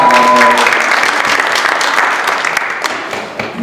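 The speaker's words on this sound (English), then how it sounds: "Round of applause, round of applause." Loud, steady audience applause for a contestant at a youth entrepreneur pitch competition, sustained clapping filling the room at near-constant intensity before easing slightly at the end.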